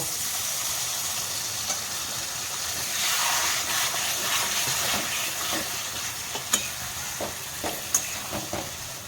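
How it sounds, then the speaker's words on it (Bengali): Water goes into a pan of eel and potato curry that is frying in oil, and it makes a loud, steady sizzle with a few small pops and stirring knocks near the end. Nobody speaks. "এবার আমি জল দিয়ে দেব"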